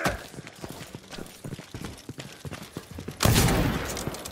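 Gunfire in the video game Dishonored 2, a patter of rapid scattered shots and footstep-like clatter building to a loud burst near the end, with no talk over it.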